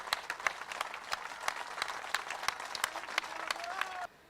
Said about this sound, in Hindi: जोरदार ताली बजा के अपन का स्वागत करिए जाके